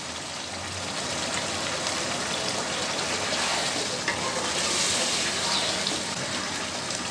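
Vegetables sauté in a hot pan, a continuous close, even sizzle and hiss that holds steady throughout with no voices.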